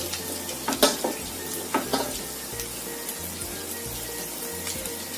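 Potato pieces frying in hot oil give a steady close sizzle, with a few sharp clacks of a utensil against the pan and low rumbling underneath.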